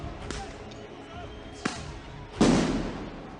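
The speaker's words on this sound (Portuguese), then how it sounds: "O batalhão de choque interditou toda a área e a todo momento taca bombas nos estudantes" Riot police bombs thrown at students go off at irregular intervals, several sharp blasts, the last one loudest and closest, with a muffled crowd murmuring faintly beneath.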